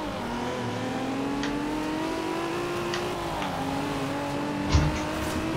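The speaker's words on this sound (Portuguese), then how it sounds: "Esse tem um motorzão, hein?" A Plymouth Barracuda Hemi V8 in Forza Horizon 2 drones at a steady, slowly rising engine pitch, a loud continuous rumble with a brief thump near the end, and no voices.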